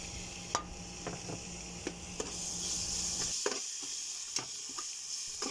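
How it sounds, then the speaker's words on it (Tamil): Tomatoes sautéing with ginger garlic paste in a pan for Coimbatore-style white chickpea biryani, a steady close sizzle with a few sharp clicks of a spoon stirring against the pan. "மேற்கு வச்ச தக்காளியை நம்ம சேர்த்து அதையும் வணக்கிடலாம்"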